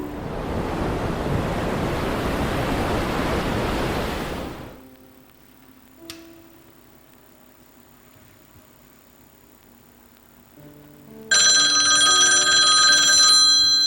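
An in-game telephone rings in an online ship exploration game, a bright electronic ring that starts abruptly near the end after steady ocean surf and wind give way to a quiet low hum.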